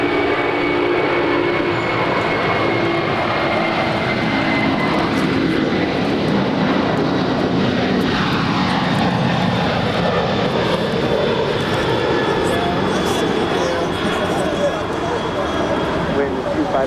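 Airliner landing on runway 25 left at Los Angeles International Airport: a continuous, loud jet roar with a thin whining tone holds steady throughout, heard from nearby without letup.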